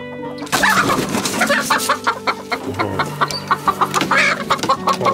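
A hen, one of a pair of Zielononóżka (green-legged) hens, clucks close up in a rapid string of short, loud, throaty calls. The calls are heard alone with no talk over them.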